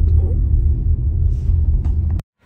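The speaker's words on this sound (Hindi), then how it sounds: "गड्डी तो दूसरे गियर में चली रही।" Car engine pulling in second gear on a mountain road between Zoji La pass and Drass, a close, heavy low rumble that cuts off abruptly near the end, with talk over it.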